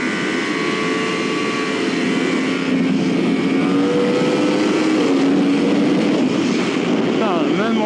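A Yamaha R1 sport motorcycle revs hard in fourth gear as it accelerates, the engine note climbing in a loud, close, steady roar with a rising whine near the end.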